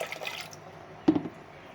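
Water poured into a pressure cooker holding washed chana dal lentils makes a single short, close splash that fades quickly, alone with no talk.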